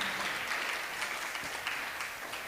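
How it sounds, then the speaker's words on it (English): An audience applauding at a Bhagavad Gita contest, a dense, steady wash of clapping from many hands throughout, fairly even in loudness, no voices on top. "Please give them a big round of applause."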